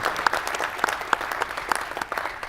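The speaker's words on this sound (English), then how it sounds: "give him a round of applause" An audience claps at an NVIDIA press conference at CES 2014, with moderate, fairly steady applause in a large hall and sharper individual claps standing out near the front.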